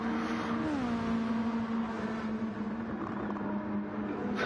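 Racing car engine in Gran Turismo 7, a Lexus on track at Spa, droning steadily and loud throughout, its pitch dipping briefly early on, with no voices over it.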